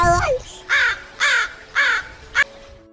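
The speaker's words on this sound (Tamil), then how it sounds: "காகம்" A crow caws four times in a steady rhythm, harsh and close, each call short and raspy with brief pauses between.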